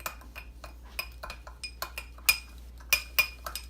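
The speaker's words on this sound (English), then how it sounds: "Stir it all up." A half-teaspoon spoon stirring a mixture in a bowl for a salmon fillet dish, quick repeated clinks and taps against the bowl in an uneven rhythm, some sharper knocks, heard close with no talk.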